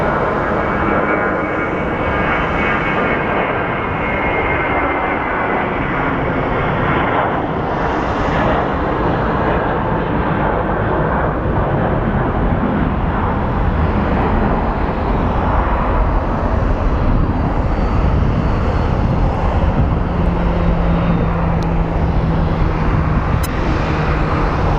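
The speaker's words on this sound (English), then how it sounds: "let's watch another takeoff" A fixed-wing airliner taking off at Phoenix Sky Harbor International Airport, a loud, continuous engine roar that holds steady and broad for the whole stretch with no talk over it.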